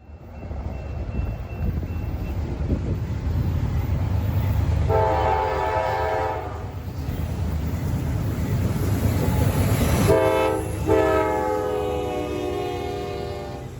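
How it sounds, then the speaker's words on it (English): A loud freight train rumbles steadily past up close, its horn blaring in two long harmonic blasts over the grinding roar of the cars. "The first train we got was nothing short of excellent"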